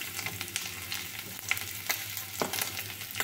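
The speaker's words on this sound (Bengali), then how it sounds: "হলুদ দিয়ে নেড়ে দেবো একটু।" Spices and food stirred with turmeric in a frying pan, a steady broadband sizzle broken by several sharp scraping strokes of the spoon, close and moderately loud with no talking.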